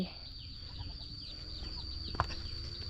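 Chickens and ducks cluck softly around a farmyard, a few faint, scattered calls over a low background hum.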